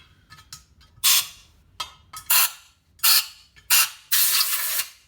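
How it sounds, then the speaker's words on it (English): Compressed air hose blasting out a Moto Guzzi oil sump, several sharp hissing bursts of varying length in a close, otherwise quiet space, the last one longest. "with the air hose, I just blow out everything"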